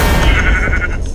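A sheep from the Minecraft video game gives a loud, close bleat with a wavering, drawn-out tone that lasts about a second, heard alone.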